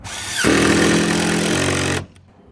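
A power drill driving screws while hanging a barn door whines up and runs loud and steady for about a second and a half, then cuts off abruptly into near quiet.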